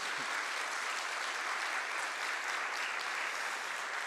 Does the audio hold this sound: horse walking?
no